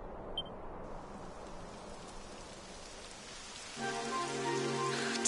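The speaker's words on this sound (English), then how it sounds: "It would have to go and start raining, wouldn't it?" Rain begins falling in the Dragon Quest XI game world, a steady soft hiss of rainfall that thickens partway through as brighter, denser spatter joins in, with no talk over it.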